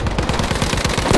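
Rapid automatic gunfire from Battlefield V, a fast loud burst of evenly spaced shots that fills the whole moment, close and dense with no talk.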